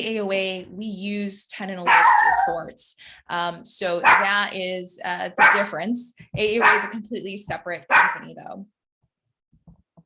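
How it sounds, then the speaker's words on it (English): A pet dog barking and yipping indoors, its short high barks mixed in with and partly masked by a person talking steadily, then falling quiet at the end. "Apologies about my my dog."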